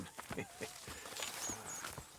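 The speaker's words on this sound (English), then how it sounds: "Tie that end around the horses." Horses walk with soft clip-clop hoofbeats in the video game Red Dead Redemption 2, steady and close, partly under talking and other game sounds.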